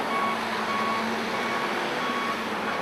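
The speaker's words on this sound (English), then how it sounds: "The sound of construction on the new Bright Divinity School building" Construction vehicle reversing at a campus building site, its backup alarm sounding a regular series of repeated beeps over steady engine and site rumble, moderately distant.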